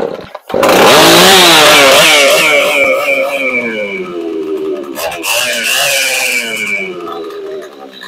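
A repaired chainsaw with a newly installed Heli-coil thread insert, running in a close, loud test: it roars up to high revs, eases back, then revs again before dropping off, with no talk.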